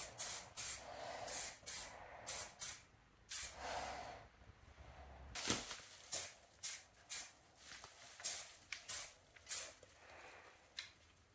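Spray gun applying U-Pole fade out thinner in several light coats over a freshly painted Aston Martin DB7 sill panel, giving a series of short, close hissing bursts with brief pauses between them.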